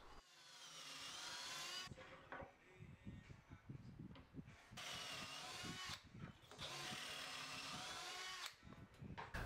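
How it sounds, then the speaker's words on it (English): A power drill bores dowel holes into the end grain of oak panels through a Dowel Max jig, in two long loud whining runs separated by short pauses and clatter, close up. "I'm drilling into the end grain of the long panels"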